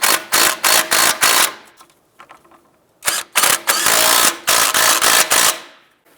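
A ratchet snugging strut assembly nuts on a 2001-2005 Honda Civic, heard as loud, close bursts of rapid clicking in short groups separated by brief pauses.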